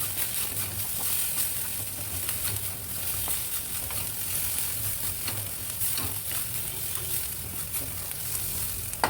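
Ground cumin, chili and turmeric fry in a pan with a splash of water, giving a steady close sizzle with soft stirring scrapes throughout and no voices.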